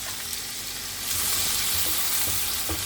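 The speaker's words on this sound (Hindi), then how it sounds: "ऑयल गर्म हो गया, अब हम इसमें 4 प्याज ऐड करेंगे।" Four onions hit hot oil in a pan and a loud, close sizzle flares up about a second in, then holds as a dense crackling hiss with no talk.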